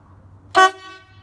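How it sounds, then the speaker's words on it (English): A single short, loud blast of the air horn on a 1972 Ford F-250 truck, close by, fading quickly into quiet. "I'll honk those air horns for you real quick here so you can hear what they sound like."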